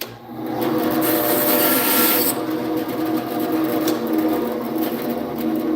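A lathe drones steadily and close while a tool cuts off a firewood finial, with a harsh continuous scraping rasp and a bright hiss at the start that eases after two seconds.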